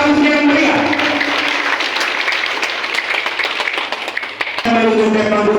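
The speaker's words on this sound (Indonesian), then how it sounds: "Berikan aplaus yang meriah." A crowd claps at the inauguration of a regency head's office building, with sustained dense applause throughout, loud and close, briefly dipping before swelling again, with a faint voice over a sound system.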